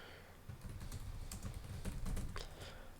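Typing HTML on a computer keyboard in the Sublime Text 3 editor: a steady run of close, crisp key clicks with a few sharper strokes, with no talking.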